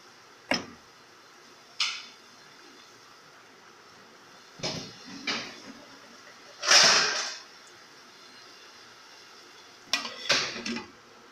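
A lid goes onto a pot of chickpea curry, heard as a few scattered metallic clinks and taps spread apart, one louder clattering knock among them, close by with no talk.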